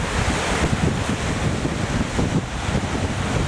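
Water rushes past a collapsed man-made wall near a beaver pond, a continuous loud wash of flowing water with wind buffeting the microphone and no voices.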